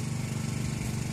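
A Honda Dio scooter's two-stroke engine runs steadily nearby, with a continuous buzzing drone and no pauses or voices.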